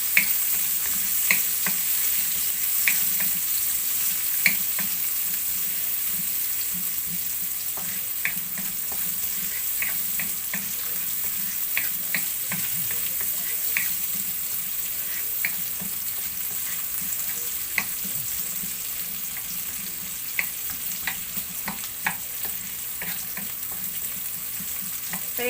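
Chopped onion sautéing in a pan sizzles steadily, with scattered clicks and scrapes from stirring scattered through the whole stretch.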